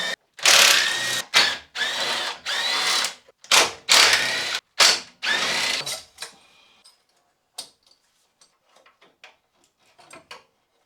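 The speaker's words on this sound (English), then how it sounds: "it's time to rip this old intercooler out and replace it with a new one with some air ducting" Tools work at the old intercooler on a turbocharged Mazda MX5 Miata, giving a burst of loud ratcheting and mechanical clanks in quick pulses, then a few faint scattered taps and clicks.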